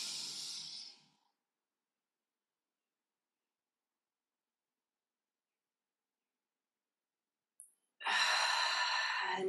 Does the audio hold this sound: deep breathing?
yes